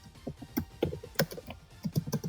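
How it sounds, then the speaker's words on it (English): Loud typing on a computer keyboard at close range during an online tabletop game session, a quick irregular run of sharp clacking keystrokes with short pauses between bursts, no talking. "Tara, your typing is so loud right"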